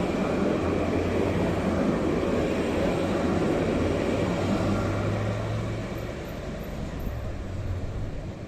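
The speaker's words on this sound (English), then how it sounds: "there's another train coming the other direction from Mount Herzl, going to Pisgat Ze'ev" A steady, heavy rumble of a Jerusalem light rail train rolling past nearby, continuous and loud, easing slightly toward the end.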